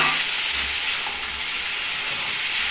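Hot oil bubbles and sizzles steadily in a wok as fish is fried in a mango fish dish, a dense continuous hiss held close without any speech over it.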